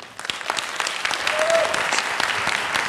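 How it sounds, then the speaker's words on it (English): Audience applause at a health care town hall debate, a steady sustained clapping from a large room lasting the whole moment, with a brief tonal squeak partway through. "Please, folks, hold your applause."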